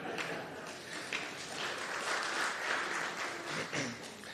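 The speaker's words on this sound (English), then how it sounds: "you guys can give a round of applause" A crowd claps together in sustained applause, a dense, even wash of hand claps that holds steady for several seconds before starting to taper.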